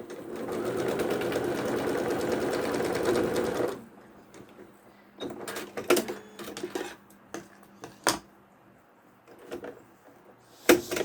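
A sewing machine stitches pieced quilt block fabric in one steady, rapid whirring run lasting several seconds. Afterward come close handling knocks and clicks with quieter gaps between them.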